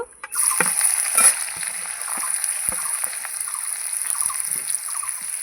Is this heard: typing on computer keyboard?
no